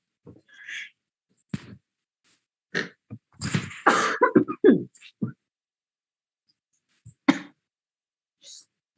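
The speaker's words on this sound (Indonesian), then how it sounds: "Maaf agak batuk." A few sharp, rough coughs and throat-clearing bursts, close by, scattered among brief pauses with bits of quiet vocal noise.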